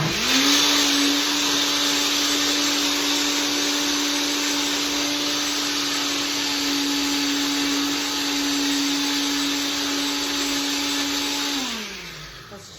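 A blender making a peach smoothie whirs loudly and steadily at high speed for several seconds, then winds down and stops at the end.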